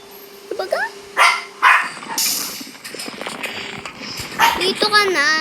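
A household dog barks and yips in short bursts close by, mixed with whimpering, while people talk over and between the barks.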